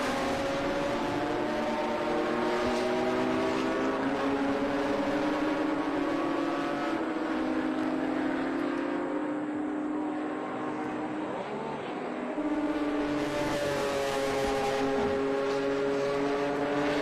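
BMW and Datsun 280Z race cars pass on a track, their engines forming a continuous, layered roar that shifts in pitch as the cars go by, heard from a moderate distance.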